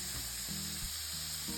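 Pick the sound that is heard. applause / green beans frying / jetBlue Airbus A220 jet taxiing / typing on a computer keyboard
green beans frying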